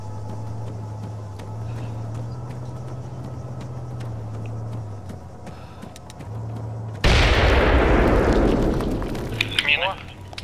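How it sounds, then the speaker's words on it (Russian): In ArmA 3, a sudden loud blast goes off as guns are blown up, its roar decaying over several seconds. Before it come a steady engine drone and scattered clicks, while someone talks through much of it. "О, вот сейчас взорвали последнее."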